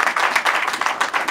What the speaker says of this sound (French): Nous acclamons pour la gloire de Jésus.